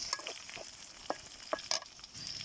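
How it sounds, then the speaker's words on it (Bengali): Onions fry with whole spices like cardamom in a pan, a soft continuous sizzle broken by several scraping stirs of a spoon. "এখন আমি একটু নেড়ে চেড়ে নেব, পেঁয়াজটা তখন লাল হচ্ছে।"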